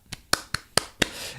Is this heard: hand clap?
yes